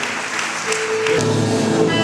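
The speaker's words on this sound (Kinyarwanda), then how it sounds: "Mumfashe rero duhaguruke twakire umukozi w'Imana n'amashyi menshi cyane" A crowd at a Rwandan Christian revival gathering gives a preacher a sustained, dense round of applause, steady and fairly loud throughout, with faint tonal sounds joining partway through.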